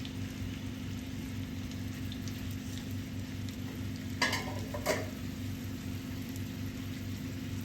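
Chicken seekh kebab cooks over a low flame with a steady, soft sizzle throughout, broken twice by brief scraping stirs. No one speaks.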